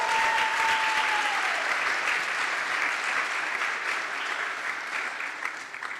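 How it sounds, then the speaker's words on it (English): Steady audience applause at a poetry and music performance evening, dense clapping filling the room at a fairly even level and easing off slightly toward the end. "Can we give another round of applause for that last performer?"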